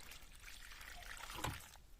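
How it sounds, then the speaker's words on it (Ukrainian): Water poured onto a plant in a spring garden, a soft, faint trickle running steadily, with a brief louder splash near the end. "І зараз я поливаю водою добре"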